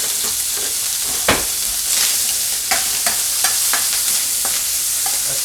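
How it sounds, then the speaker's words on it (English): Bacon frying in a pan as its fat renders, a constant bright crackling sizzle with sharp pops and stirring clicks scattered throughout, close and fairly loud with no voices. "Even though I don't eat bacon, that sizzle is awesome."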